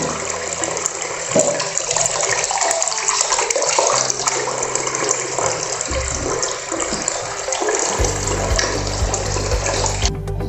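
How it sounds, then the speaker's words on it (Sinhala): Curry leaves rinsed under a running tap, a steady broadband rush of water pouring for the full stretch, close and fairly loud, with a lower, heavier gush of flow in the last couple of seconds. "මේ කරපිංච ටිකක් සෝදලා කොහොමද කරන්නේ?"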